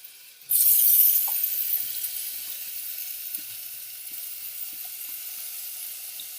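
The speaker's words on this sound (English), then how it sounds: "And fry it a little bit." Pre-soaked rice grains are dropped into a hot pan for kitchari and burst into a loud, bright sizzle that slowly fades to a steady frying hiss, with faint clinks of stirring and no talking.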